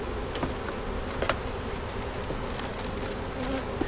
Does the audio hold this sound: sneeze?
no